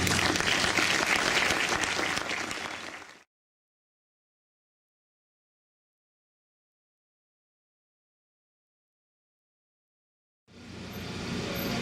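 A university audience at a book presentation, El Expediente Prado, claps in two bursts. A dense round fades out after about three seconds, then a long silence follows before clapping swells back in near the end.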